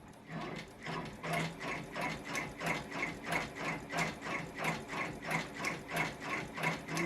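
A sewing machine stitches yarn applique onto a sweatshirt with a fast, even mechanical chatter of repeated clicks, close and fairly quiet, with no talking.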